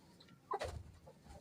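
A single rooster lets out one brief, fairly close cluck over quiet background, no talk alongside.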